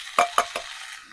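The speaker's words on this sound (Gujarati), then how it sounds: "હવે ડુંગળી નાખી દઈશું." Onions for a paneer curry go into a garlic tempering, with three quick clinks and scrapes of a spoon stirring in the pan over a faint sizzle.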